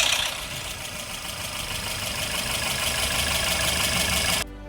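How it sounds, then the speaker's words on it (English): A car engine idles with a steady metallic hum and light rattle from the front, the timing chain clattering continuously before cutting off abruptly near the end. "Here's a quick sample of what a timing chain rattle sounds like. Listen for that metallic humming coming from the front of the engine."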